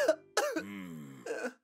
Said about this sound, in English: Cough for me?